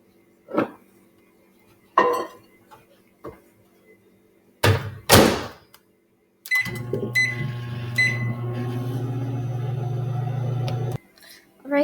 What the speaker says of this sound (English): cook this in the microwave for about 70 to 90 seconds